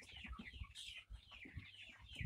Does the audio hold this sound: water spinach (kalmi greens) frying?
no